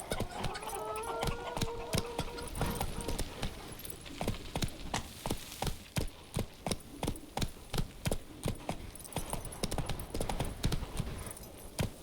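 In The Witcher 3 video game, a horse's hooves clip-clop at a steady trotting rhythm, clear and close throughout, with a faint voice briefly near the start.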